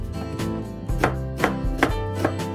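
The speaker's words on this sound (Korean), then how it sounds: "양파는 약간 도톰하게 채썰어 줍니다" A knife chops onion into thick strips on a cutting board, four or five crisp, evenly spaced thuds under faint background music.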